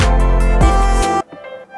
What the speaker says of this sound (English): And then in the final chorus I added a piano melody which sounds like this